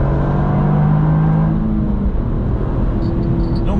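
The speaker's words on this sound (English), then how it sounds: "Power it out as we run down towards Adnau Bridge." A Toyota GR Yaris accelerates out of a corner on the Nürburgring Nordschleife during a track day, its engine note climbing steadily in a loud, continuous whir and roar heard from onboard, then easing slightly near the end.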